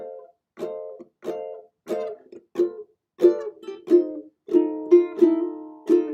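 A ukulele is picked at a fast tempo, with bright plucked notes in quick runs that grow into fuller, sustained strums toward the end, played close and alone.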